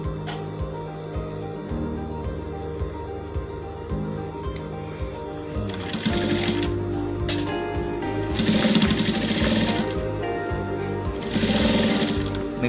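A sewing machine stitches shirt fabric with a rapid mechanical whirring rattle that runs nearly the whole time and grows louder and faster in bursts partway through.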